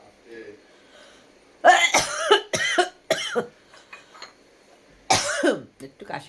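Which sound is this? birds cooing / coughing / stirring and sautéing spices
coughing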